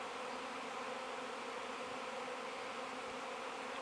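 A swarm of feral honeybees fills the air with a dense, steady buzzing drone, constant and unbroken, many insects humming together at moderate distance with no voices.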